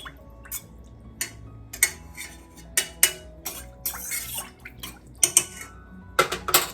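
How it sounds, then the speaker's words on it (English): Fork scraping and clinking against a bowl while mixing ramen seasoning spices, with cayenne pepper added, in a kitchen; a string of short, sharp taps and scrapes in irregular bursts, close and fairly quiet, with no talking. "Mix everything up a little bit with your fork."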